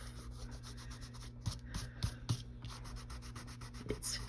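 Dried glue being rubbed off a craft surface by hand, a quiet dry scratchy friction in a few short strokes with light bumps, close and without talking.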